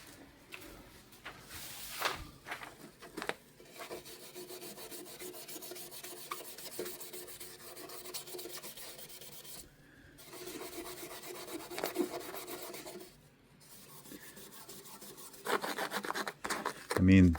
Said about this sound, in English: So let's get a little Scotch-Brite pad